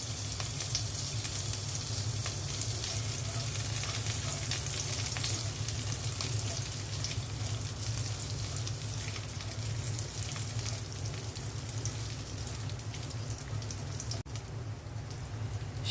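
Pistachios and raisins fry in a pan, giving a dense, continuous close sizzle like steady rain that holds at an even level throughout, with faint stirring underneath.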